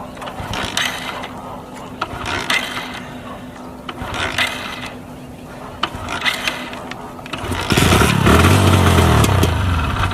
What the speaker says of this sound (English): let's start the bike and see.